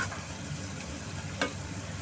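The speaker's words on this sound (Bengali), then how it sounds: "যতক্ষণ পর্যন্ত মশলাটা দিয়ে তেলটা বের না হয়ে আসে ততক্ষণ পর্যন্ত আমি মশলাটাকে ভেজে নিব।" Spice paste frying in hot oil for a rohu fish roe curry, a steady low sizzle with faint stirring, one brief louder scrape near the end, no voices.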